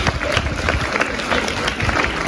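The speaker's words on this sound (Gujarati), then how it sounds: "જોરદાર તાળીઓથી વધાવીએ." Clapping from a crowd at a school awards ceremony as a student is honoured: dense, continuous applause at moderate volume, with a few sharper claps standing out.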